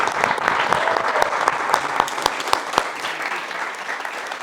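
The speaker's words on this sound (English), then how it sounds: "give yourself a round of applause" A room full of people applauds at an inspiring evening event at RAJE, with steady, dense clapping throughout and a few sharper claps standing out near the front.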